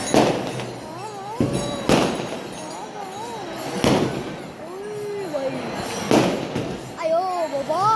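Strings of firecrackers go off near a village palanquin procession, loud cracks popping every couple of seconds while children and other people chatter and call out nearby.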